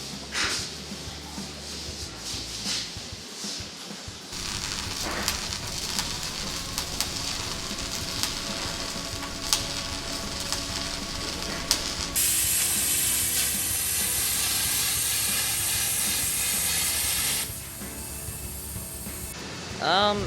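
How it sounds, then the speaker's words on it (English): Shielded metal arc (stick) welding on a horizontal joint in a high school welding shop, giving a steady crackling sizzle that runs continuously for the whole stretch, with a harsher hiss in the second half. "I'm going to be doing a horizontal shielded metal arc weld."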